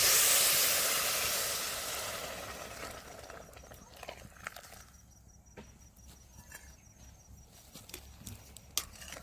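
Hot water poured into roasting wheat rava for upma sets off a loud hissing sizzle that fades over a few seconds into quiet bubbling and faint clicks.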